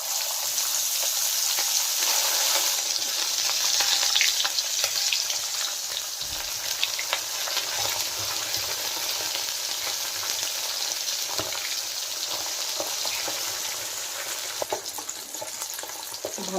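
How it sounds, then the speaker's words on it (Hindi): Fish marinated in turmeric, salt and chili frying in hot oil, a steady bright sizzle with crackling pops that carries on without pause, close and fairly loud. "भल से पूरा फ्राए करदे माछ को"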